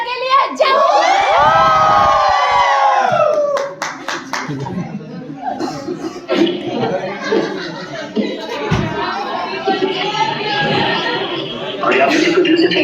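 A large crowd at a live show for a Bhojpuri singer hoots, shouts and claps loudly. The cheering is sustained, with shrill calls and overlapping voices, and dips briefly before surging again.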